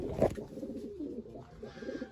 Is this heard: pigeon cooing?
yes